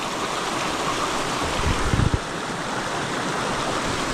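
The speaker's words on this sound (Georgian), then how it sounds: "აქ დამხვდა ესეთი მდინარეები," A river stream crossing a mountain bike trail flows in a steady, broadband rush of water that fills the whole clip, with a few brief low knocks or splashes near the middle and no talking.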